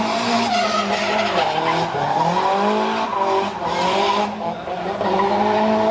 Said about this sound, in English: Brian Lenihan, who locks up everything really coming into the first corner